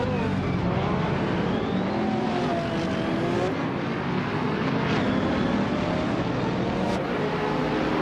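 A Ferrari F430 GTC race car (number 27) in a racing video game, its engine droning and shifting pitch steadily as other cars whine past, loud and continuous without talk.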